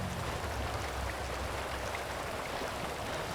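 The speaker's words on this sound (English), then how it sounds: "And we're in the rain" Steady rain pours in the open-world crime game GTA 5, a dense, even hiss at constant loudness with no gaps for the whole stretch.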